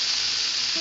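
A breakfast mix fries in a pan with a steady, loud, close hiss and sizzle that holds even through a short moment.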